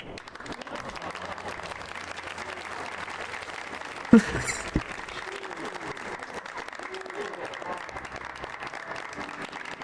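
Crowd applause in a Final Fantasy XIV cutscene, steady massed clapping throughout with a sharp louder burst near the middle.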